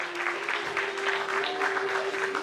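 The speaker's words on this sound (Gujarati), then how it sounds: "જોરદાર તાળી વધાવો" A crowd at a Gujarati community event claps steadily in a dense, even patter, with a sustained musical tone humming beneath the applause throughout.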